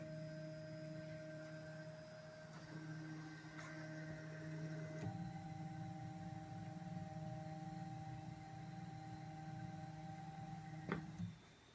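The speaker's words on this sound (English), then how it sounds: "I'm opening the printer." An FPGA-driven 3D printer with stepper motors hums in steady tonal whines that shift pitch a few times, fairly quiet and close, ending with a brief clunk near the end.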